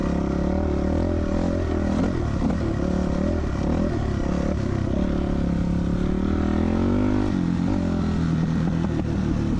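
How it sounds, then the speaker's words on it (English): A 2000 Yamaha YZ426F four-stroke dirt bike engine runs steadily and loud up close, a throaty single-cylinder thump with small rises in revs and mechanical clatter throughout. "This bike's a bit loud,"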